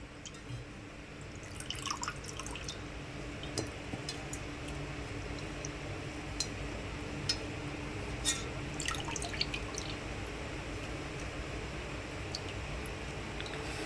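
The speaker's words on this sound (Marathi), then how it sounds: "आपण निथळून काढून घेऊयात" Blanched spinach, chilled in cold water, drains in a kitchen, giving a steady wet trickle with scattered small drips and splashes throughout, fairly close and even in level, with no talk.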